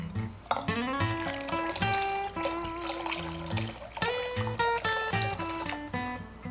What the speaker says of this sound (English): Use your measuring cup to pour solution through the wand several times